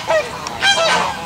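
Geese honking at a horse show in the Netherlands, a few loud nasal honks in quick succession, close by with no talking.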